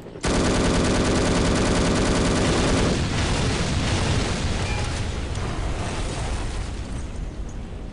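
An AK rifle in No One Lives Forever fires a long, sustained, loud automatic burst of rapid rattling shots, then trails into a noisy echoing wash as the firing eases.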